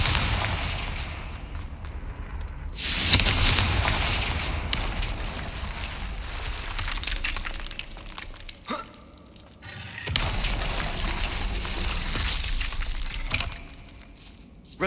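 Confringo fire spells in the Hogwarts Legacy video game burst as loud, booming explosions with crackling, glassy debris. The blasts come in heavy waves separated by a brief lull, and no one speaks.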